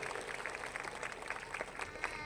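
A crowd claps at a BJP campaign rally, a dense, steady patter of many hands at moderate distance with no single claps standing out.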